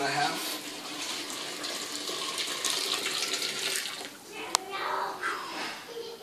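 Hot water poured from a container onto mashed mixed berries for homebrew wine, about 1.5 gallons: a steady, continuous close-up rush and splash of liquid filling a vessel, with a brief sharp clink partway through.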